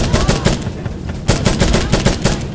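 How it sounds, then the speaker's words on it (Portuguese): Rapid bursts of gunfire from the video game Insurgency: Sandstorm crackle close and loud, firing in quick automatic volleys with a brief lull in the middle. "é muito bom esse disparo."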